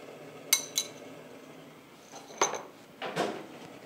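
A few light metallic clinks and scrapes as pasta is tossed in a skillet over the flame while making a light carbonara; brief, separate knocks amid a quiet kitchen, with no talking.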